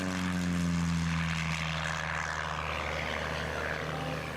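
A small propeller airplane flies at the 1993 Prairie Skies Air Show in Hutchinson, Kansas, its engine a steady droning hum that slowly shifts pitch and fades slightly as it passes, with no talk.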